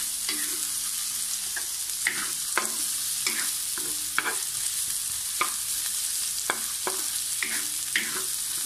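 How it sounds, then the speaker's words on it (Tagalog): Onions sautéing in a pan for seafood ginataan in coconut milk, a steady bright sizzle with frequent spatula scrapes and stirring knocks, close and continuous. "Gisa-gisa hanggang maging translucent na yung ating sibuyas."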